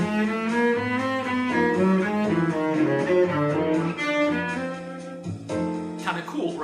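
Slow electric guitar lick with sustained, bending melodic notes played over a backing track of chords and bass, loud and continuous with no talking.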